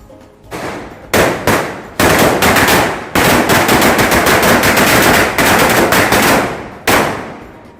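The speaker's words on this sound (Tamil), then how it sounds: "எல்லாம் அவசரமாக பட்டாசு வெடிக்க ஓடிட்டாங்க" Diwali firecrackers burst outdoors in long, loud rapid-fire crackling strings, broken by brief gaps and sharp single bangs, with no voices over them.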